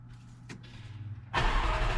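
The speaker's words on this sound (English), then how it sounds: "First start up with the crank pulley stage 2 tune from Velocity AP." A Jaguar F-Type R fitted with a new crank pulley and stage 2 tune starts up: a brief starter crank, then the engine catches and roars loudly into a steady, strong idle close by.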